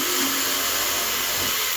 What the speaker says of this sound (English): I'll get out my jigsaw here with the Progressor All-Purpose.